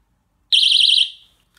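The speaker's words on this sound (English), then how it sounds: "And then the alarm, I'm going to show you right now." Damsel in Defense personal safety keychain alarm emitting a single shrill, warbling electronic siren for about half a second, loud and close, then cutting off and fading.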